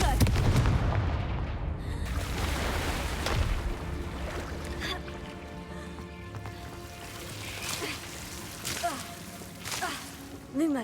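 Confringo blasting-spell explosions in Hogwarts Legacy: a heavy booming burst up front, then further sharp blasts over a continuous bed of game music and ambience.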